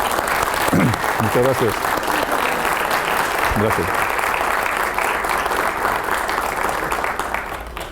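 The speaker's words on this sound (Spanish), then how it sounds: "para quien pido un fuerte aplauso" An audience gives a speaker sustained applause at a university faculty event, a dense and even roar of clapping that goes on for several seconds, with a voice briefly speaking over it before the clapping fades slightly.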